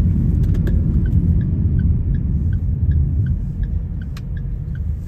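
A car travels along a newly built road on a diversion route near Koida, its steady low engine rumble and tire noise continuing without break, with faint rattles on top and no talking.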